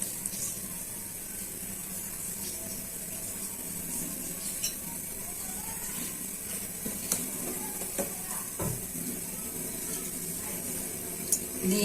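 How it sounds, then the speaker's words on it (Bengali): Oil poured into a hot kadai on a village stove gives a steady, low sizzle with occasional small pops and clinks, close by and without speech. "এখন তেলটা দিয়ে দিচ্ছি।"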